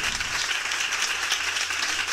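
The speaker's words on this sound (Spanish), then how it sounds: "Este aplauso es para ti, Michelle." Brief audience applause, a dense patter of many hands clapping at moderate distance, fairly soft and continuous for about two seconds.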